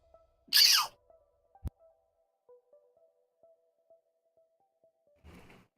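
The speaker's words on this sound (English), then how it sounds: "Had to sneeze a little bit there" A single sharp sneeze from a commentator during an esports match broadcast, loud and close, followed by a quiet click and near silence with a faint low tone.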